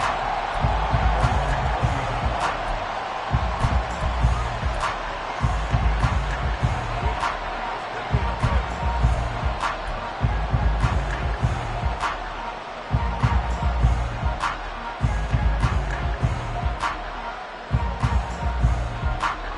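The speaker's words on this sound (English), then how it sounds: "The crowd may be losing just a little bit of the edge after back-to-back punts" Crowd at an NFL football stadium, Eagles against Vikings, roars as a steady, dense wall of noise, with rhythmic rises and sharp claps or thuds recurring every couple of seconds.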